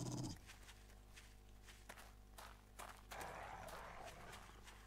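Dog in the zombie survival video game 7 Days to Die, padding and scuffling close by in quiet in-game ambience, with soft repeated footfalls and a louder burst of noise near the end.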